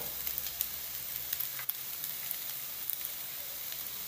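Half an onion and a garlic clove sautéing in a pan, a soft, even sizzle with occasional light ticks and a brief stir, close and fairly quiet.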